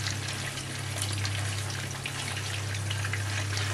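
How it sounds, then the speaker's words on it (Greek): Village sausage and sliced leek sauté gently in a pan, giving a steady, even sizzle with a low hum underneath and no one speaking. "Περιμένουμε να ξεκινήσει λίγο το σοτάρισμα, να θωρακιστεί λιγάκι."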